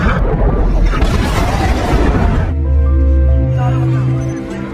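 A torpedo strikes the submarine USS Tampa Bay in a loud, heavy explosion: a roaring blast that settles into a deep rumble with a lingering low resonant tone.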